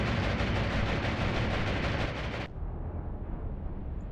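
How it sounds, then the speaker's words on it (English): Anti-aircraft fire from warships in the naval game Atlantic Fleet, a dense, loud wall of rapid gunfire and blasts that abruptly stops, leaving a quieter rumbling background. "They got quite good anti-aircraft fire on these ships, it would seem"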